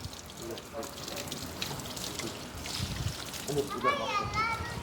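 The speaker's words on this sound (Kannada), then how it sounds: "ಓಕೆ ಇಲ್ಲಿ ಕಾರ್ ವಾಶ್ ಮಾಡ್ತಾ ಇದ್ದಾರೆ" Water splashes and runs as a car is hosed down during washing, a steady wet spray with children talking over it throughout.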